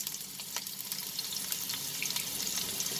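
Potatoes drop into smoking-hot mustard oil over a reduced flame, giving a steady, close sizzle with scattered crackles and pops for the whole stretch, with no voices.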